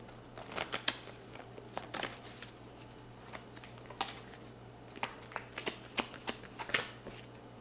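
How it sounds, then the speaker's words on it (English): Oracle cards from a Moonology deck being shuffled and drawn, a run of quick crisp riffling and flicking clicks close by, coming in irregular bursts with no voice. "I'm gonna pull two from the Moonology deck."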